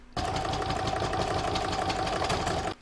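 A sewing machine stitches the lining of a tissue holder in one steady, close burst of fast, even chatter that stops abruptly after a few seconds.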